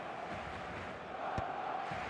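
Stadium crowd ambience from an eFootball match, a steady, dense roar of many voices swelling slightly partway through, with no commentary.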